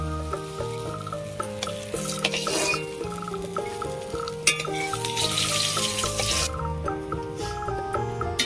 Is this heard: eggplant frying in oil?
yes